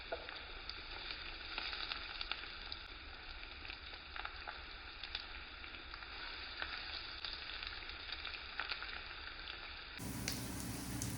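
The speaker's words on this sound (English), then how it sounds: "Now shallow fry the tikkis in a pan until they turn golden brown and perfectly crispy." Aloo tikkis shallow frying in a pan of oil, a steady dense sizzle with scattered crackles and pops running the whole time, close and loud, with no talking.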